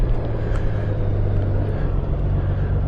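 A 2024 Honda Goldwing Tour motorcycle rides along with a steady, loud engine rumble and wind roar. The noise holds constant throughout with no voices.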